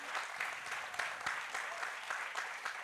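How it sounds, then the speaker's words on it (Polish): Steady applause from a crowd at a festival closing ceremony, a dense even patter of clapping lasting throughout, fairly distant. "To zasłużone brawa."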